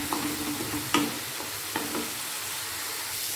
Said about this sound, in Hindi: प्याज जो आपका है उसको आपको बिल्कुल ब्राउन कर लेना है यानी कि डीप फ्राई कर लेना है